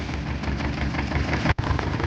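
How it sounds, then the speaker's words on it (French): A tractor engine idles close by with a steady low rumble and faint knocking texture, briefly cutting out for an instant before resuming, with no voices over it. "j'ai préparé le tracteur"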